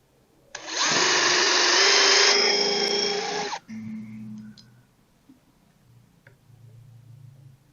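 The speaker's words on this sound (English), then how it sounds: "And we'll drill a hole with our countersink bit." A power drill with a countersink bit bores a clamped workpiece during panel-sled construction, a loud high whine for about three seconds that cuts off, followed by faint clicks and quiet shop noise.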